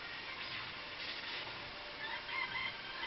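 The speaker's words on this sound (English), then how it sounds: "It's a chicken." A chicken clucks in the Danganronpa video game, a faint, low-level fowl call repeated softly over a steady background hum without speech.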